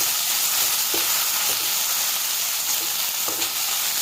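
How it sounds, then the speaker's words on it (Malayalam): Cooked rice with salt stirred in a hot pan for tamarind rice, a loud continuous sizzle with soft scraping strokes of the spoon at intervals. "ഇതിലേക്ക് കുറച്ച് കുറച്ച് നമ്മൾ ഉപ്പ് ചേർത്ത് വേവിച്ച ചോറ് ചേർത്ത് നന്നായി ഇളക്കി കൊടുക്കും"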